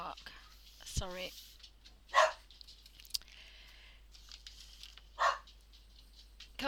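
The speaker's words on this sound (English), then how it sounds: "My little monster is having a bark." Small pet dog Alfie barking indoors, a few sharp, moderately close yaps spaced apart amid quiet room sounds and light shuffling.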